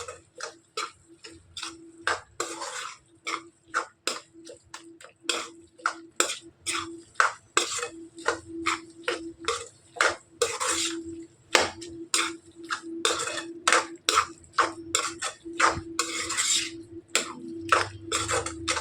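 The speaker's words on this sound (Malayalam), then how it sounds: "നന്നായിട്ട് ഇളക്കി കൊടുക്കാൻ" Spoon scraping and tapping against a pot while biryani masala with garam masala is stirred, sharp rhythmic clicks repeating quickly and close, with faint low rumble beneath and no talk.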